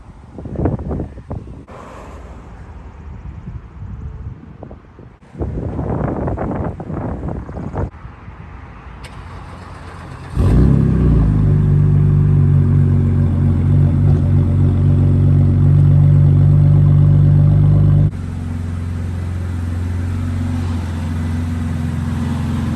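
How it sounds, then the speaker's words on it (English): A BMW E90 with an M4 bumper starts up close by: wind-buffeted handling noise first, then a sudden engine catch at about ten seconds into a loud, steady rumbling run, which drops to a lower, quieter idle near the end. "we're just gonna get the car started, pull it into the shop"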